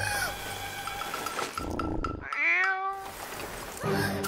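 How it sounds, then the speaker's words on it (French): A cartoon cat meows several times, with rising and falling wails, close and moderately loud, over a soft background of animated-show sound. "Mais non, regardez, c'est le chat!"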